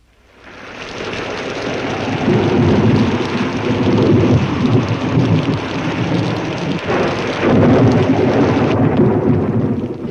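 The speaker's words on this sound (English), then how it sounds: "when the old lightning starts lightning, the old thunder starts thundering" Heavy rain pours during a thunderstorm, fading in quickly and then holding loud and steady while rolling thunder rumbles underneath.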